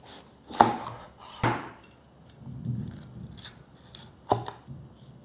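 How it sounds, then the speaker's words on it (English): Capsicum is sliced thin with a knife on a board, giving a few sharp, separate chopping knocks with quieter cutting sounds between them, close and unaccompanied by talk. "Remove this inner layer and cut it into thin slices."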